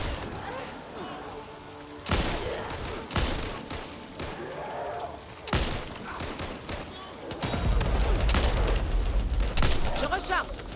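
Gunfire rings out in the video game Back 4 Blood in several sharp bursts of shots, close and loud, while someone talks over the action.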